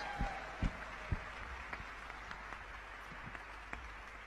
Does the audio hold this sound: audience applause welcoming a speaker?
yes